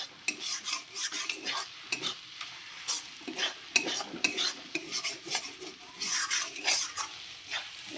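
Dried Bombay duck fish paste frying in oil while being stirred, busy rhythmic scraping and clinking of a metal utensil against the pan over a crackling sizzle, close and continuous with no talking.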